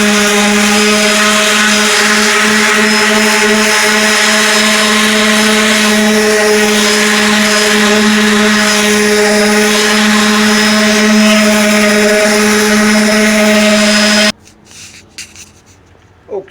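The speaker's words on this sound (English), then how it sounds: "now I'm going over this with 80 grit sandpaper" A power sander with 80 grit sandpaper works over a wooden cabinet door, a loud steady whine with a constant hum running without a break for about fourteen seconds before cutting off abruptly, leaving faint rustling.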